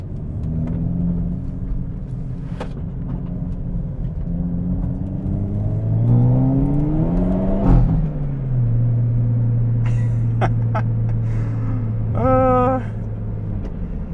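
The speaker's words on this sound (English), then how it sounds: "These cars have always sounded just absolutely gnarly." Modified 340-horsepower Hyundai Elantra N, a full bolt-on car with a tune, revving and accelerating from inside the cabin, its engine note rising through gears with a loud rumble, then settling into a steady drone with brief crackles.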